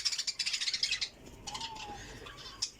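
Budgerigars and French birds chirp in a dense, fast burst of high tweets for about a second. Quieter, scattered calls and a single clear chirp near the end follow.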